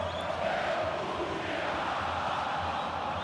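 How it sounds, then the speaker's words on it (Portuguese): A stadium crowd sings in a football video game's career mode, a dense, loud, continuous roar of massed voices filling the whole stretch with no commentary over it. "A torcida tá cantando, hein?"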